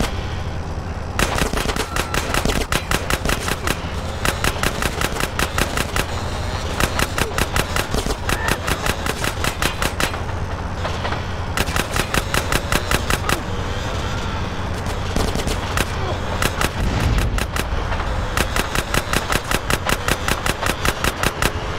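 Gunfire in GTA San Andreas, repeated rapid machine-gun bursts with short gaps, loud and close over a constant engine-like background and game noise.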